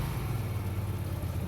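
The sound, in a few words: Hyosung Aquila GV 250 V-twin motorcycle exhaust revving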